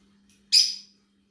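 A small yellow pet bird gives one sharp, bright squawk, loud and close, after near silence over a faint steady electrical hum.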